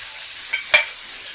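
Prawn khichuri cooking in a pan over medium heat, a soft steady sizzle with a single brief stirring scrape in the middle, close and fairly quiet.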